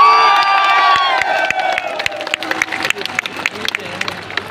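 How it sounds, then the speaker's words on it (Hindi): Rally crowd at a political public meeting in Danta cheering and applauding loudly, with whoops and shouts swelling at first, then settling into scattered claps and calls. "जिस जोश के साथ तालियों की गड़गड़ाहट की"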